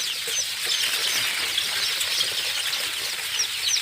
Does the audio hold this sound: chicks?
yes